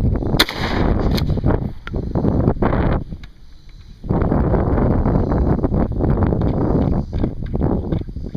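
A UTS-15 shotgun fitted with a Tooth and Nail Armory choke fires at an outdoor target, giving sharp, loud reports over heavy wind rumble, with a brief quiet gap midway.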